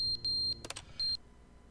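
A fallen clock in the video game The Stanley Parable emits three high electronic beeps, two close together and a third after a short gap, with a brief clatter between them in an otherwise quiet room.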